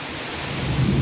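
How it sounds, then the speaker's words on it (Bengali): Heavy rain pours down in a strong downpour with thunder rumbling close by, a loud continuous wash of sound with no voices. "আকাশে যত মেঘ ছিল ঢেলে পুরো বৃষ্টি হচ্ছে দেখো"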